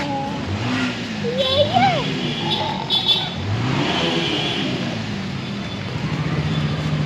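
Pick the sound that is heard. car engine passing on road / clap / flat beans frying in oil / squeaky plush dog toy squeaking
car engine passing on road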